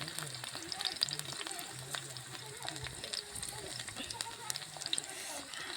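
Pomfret-type fish fry crisply in a pan after being flipped, a quiet crackling sizzle with scattered pops and low background hum.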